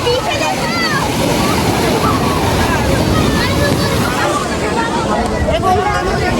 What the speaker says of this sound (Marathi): जाम मोठ्या मोठ्या लाटा यायला लागल्या आता